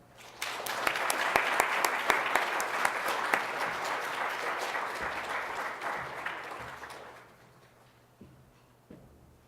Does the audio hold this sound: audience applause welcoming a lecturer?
yes